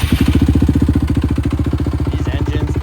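A Suzuki LTR 450 quad's engine idles close up with a rapid, even mechanical knock, a loud regular clatter pulsing steadily through the running motor.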